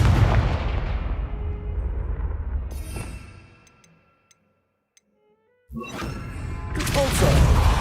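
Confringo fire spell cast in the Hogwarts Legacy video game, heard as a loud rumbling blast that fades to near silence, with a few faint ticks before another loud burst.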